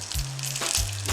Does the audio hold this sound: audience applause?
no